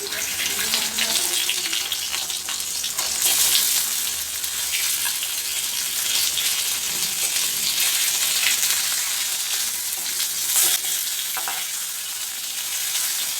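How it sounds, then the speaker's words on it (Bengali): Hilsa fish fries in hot mustard oil with turmeric, giving a continuous bubbling sizzle with some watery spattering and occasional louder pops, close by and without talk. "আমি এখানে মাছটা খুব সাবধানে দুপিঠ ভালো করে একটু ভেজে নিয়েছি।"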